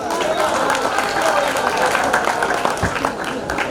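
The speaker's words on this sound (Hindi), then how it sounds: "थोड़ा आप लोग भी अपने ज़िंदा दिली का मुजाहरा करते हुए भरपूर तालियों से इस्तकबाल कीजिए" Audience applause at a mushaira poetry gathering during an Urs in Kamptee, a broad sustained wash of clapping from a large crowd, with voices mixed in.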